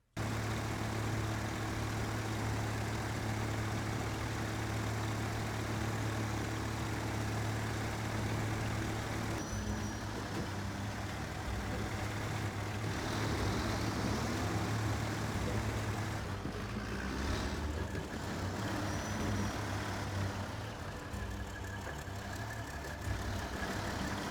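A Kenworth truck engine in the SnowRunner game drones continuously for the whole stretch, a steady low idle rumble with slight shifts in pitch partway through, close and unaccompanied by speech.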